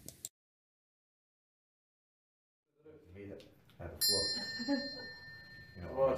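A bell rings with a bright, sustained metallic ding amid voices, following a short silence; people talk around it.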